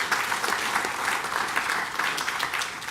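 Warm applause from a crowd at a construction and welding certificate ceremony, honoring the welding instructors; steady, even clapping from many hands fills the room, moderately loud and sustained without a break.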